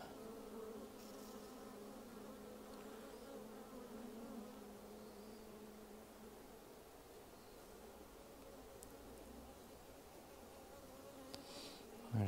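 Bees buzz steadily in a dense, droning hum, close and continuous, with a few faint rustles and a brief knock near the end.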